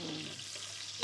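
Two medium onions, sliced, sizzle and fry in hot oil in a home kitchen, with a steady, moderate crackle that runs close and unbroken.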